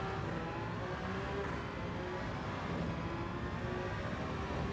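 Toyota GR010 Hybrid race car on the gas at Deep Forest in Gran Turismo 7, a steady, full engine drone with a faint rising whine, continuous and close, with no voices.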